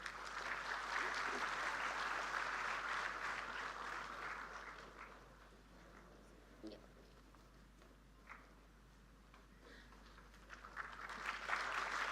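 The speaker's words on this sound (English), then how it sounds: "A huge round of applause." An audience at a quantum computing facility inauguration ceremony applauds, a fairly faint, distant wash of clapping that fades midway and swells again at the end, with a voice briefly heard.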